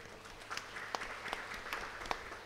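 A church congregation at a special Mass at Amalasiramam, Tiruchirappalli, breaks into soft, scattered applause, a low patter of many hands with a few sharper claps standing out, heard from a distance without talk.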